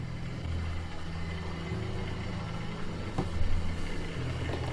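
Vintage Triang L1 OO-gauge model locomotive in Southern Malachite green, still on original Triang gears, running with a steady low motor hum and slight mechanical noise, plus a couple of faint clicks.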